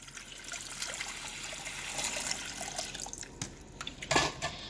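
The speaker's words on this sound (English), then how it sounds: "I'm pouring water." Water is poured from a tap into a cooking pot for a turkeyburger dinner, a steady trickling splash that grows louder and denser near the end, with no voices.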